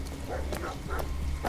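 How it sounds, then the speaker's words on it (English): Dogs barking in a stealth video game, a few short yips and barks at close range over a steady background of game ambience. "Okay, so we have some dogs."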